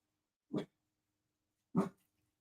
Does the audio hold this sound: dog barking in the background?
yes